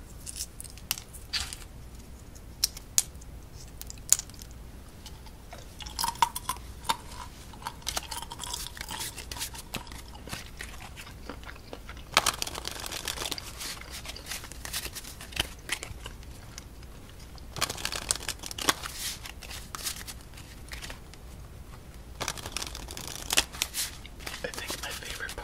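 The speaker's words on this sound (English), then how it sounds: "Pistachio sound would be like the rustling of the skin of the pistachio." Pistachio shells are cracked and their papery skins rustled close up, heard as scattered crisp snaps and dry crackles in irregular bursts at a quiet level, with occasional soft talking between them.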